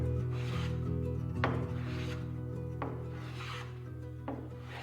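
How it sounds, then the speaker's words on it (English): A small piece of guitar wood, destined to become a headstock, being resawn by hand, with three slow rasping saw strokes on a low background hum. "enjoy this dramatic reenactment of me resawing the smaller piece, which would become the headstock"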